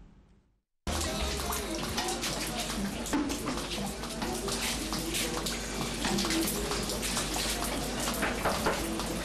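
A courtyard water tap runs in a steady, dense gush that starts abruptly after a moment of quiet and continues unbroken at moderate level, with no voices over it.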